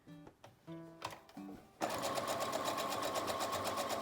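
A sewing machine stitches a cloth face mask, starting with a few short stop-start bursts before settling into a steady, fast, close mechanical whir.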